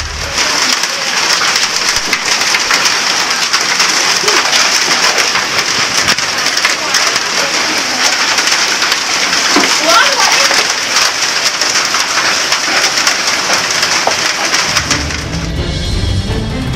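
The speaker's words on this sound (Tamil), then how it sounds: "இடியுடன் கூடிய ஆலங்கட்டி மழை பெய்தது" Heavy rain pours as a steady, loud hiss that fills the whole stretch. No voices can be heard, and the downpour ends abruptly near the end.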